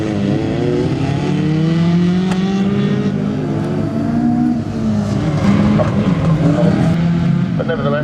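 Ferrari rally cars run a live rally stage at a show, their engines droning and shifting pitch steadily throughout at close range, with a voice commentating over the continuous engine noise.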